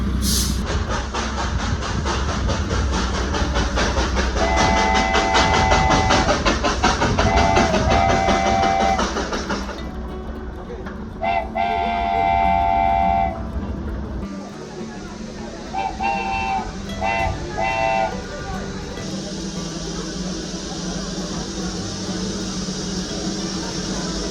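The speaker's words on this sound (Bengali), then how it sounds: "কয়লার আগুনে চলতে থাকা এই স্টিম ইঞ্জিন দার্জিলিং শহরকে এক অন্য মাত্রা দেয়।" A coal-fired steam train in Darjeeling rumbles along, sounding several loud, sustained whistle blasts in separate bursts over a continuous mechanical roar.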